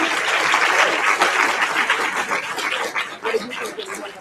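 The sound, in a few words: audience applause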